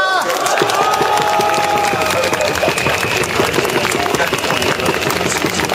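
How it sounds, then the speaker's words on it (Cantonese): A crowd at a Hong Kong rally against funding for the high-speed rail line breaks into loud, sustained applause and cheering, with voices calling out through the clapping. "我哋俾掌聲有冇啊？"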